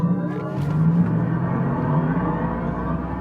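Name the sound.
electric car launch acceleration sound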